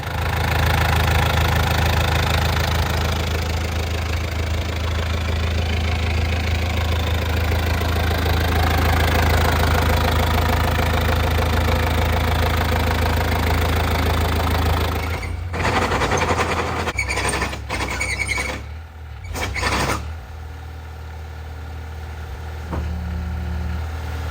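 The diesel engine of an old Komatsu D20A-5 bulldozer runs with a steady, loud, rumbling idle and a knocking chug for about fifteen seconds, then turns rougher and fluctuates before settling to a quieter idle.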